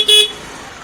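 A short, bright beep from the horn of a Honda Activa 6G BS6 2020 scooter, one quick toot heard up close.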